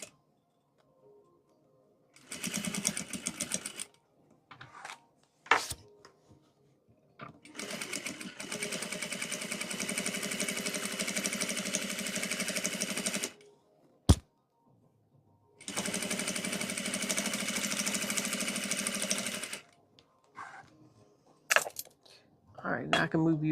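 A sewing machine set to a 3.0 stitch runs through fabric for a DIY clutch bag in three long bursts of rapid, even mechanical whirring, with short pauses, handling clicks and a sharp knock between them.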